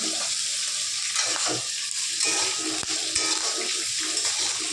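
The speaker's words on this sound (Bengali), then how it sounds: "এবার ফুলকপিটা ভালো করে ভেজে নেবে লাল করে।" Salted cauliflower pieces frying in oil until browned give a loud, continuous close-up sizzle, broken by repeated stirring scrapes and a few sharp clicks of the utensil against the pan.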